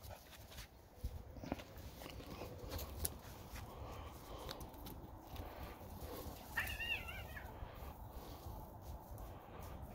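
Cats mewing as a large dog plays among them, with one short, clear meow rising over steady rustling and shuffling noise partway through; no voices.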